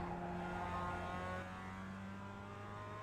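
Mazda MX-5 race cars roar around Indianapolis Motor Speedway in a racing video game, a fairly faint engine note revving with strong tonal harmonics that settles slightly lower partway through.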